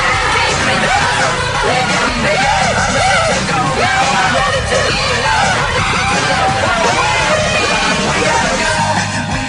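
Two men scream hysterically and continuously on a Swiss Shot amusement ride, loud, close and frantic, with whooshing ride noise and crowd babble underneath.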